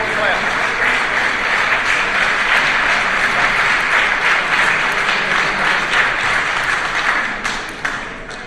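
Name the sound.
audience clapping at city board meeting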